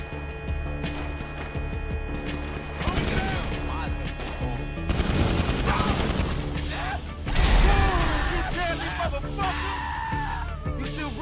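Rapid gunfire bursts in GTA V, sounding as repeated bangs and machine-gun fusillades over a constant busy game soundscape, the loudest blasts surging around the middle and late in the clip, with talking alongside.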